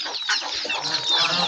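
Chickens cluck busily while feeding alongside ducklings, a dense overlapping chatter of close, fairly loud clucks and peeps that runs continuously with no talking.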